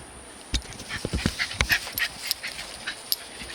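A dog pants and gives a few soft whimpers and yips close by, with short irregular breathy bursts and small scuffling noises in a quiet room.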